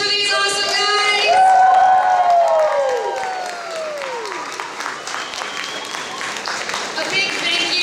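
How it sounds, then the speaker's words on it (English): An audience at a school performance applauds, a dense wash of clapping with some cheering, loud and close, while a voice speaks over the start and the applause gradually settles. "One more round of applause for these awesome guys!"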